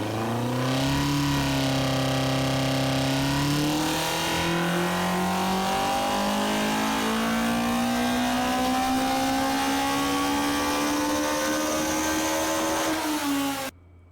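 A Toyota car engine in the BeamNG driving game revs hard and holds a high, steady whine that slowly climbs in pitch for over ten seconds before cutting off abruptly.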